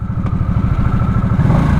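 A stock 2024 Harley-Davidson Nightster Special 975 motorcycle engine, loud and close, throbbing in a quick, steady pulsing rhythm as it idles and revs slightly, with no voices.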